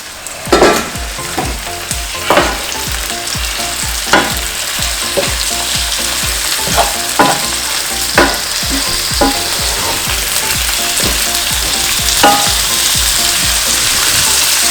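Half a kilo of prawns sizzles and fries in a pan for a garlic prawn dish, a steady loud hiss broken by repeated sharp clatters of stirring and tossing, with no voices.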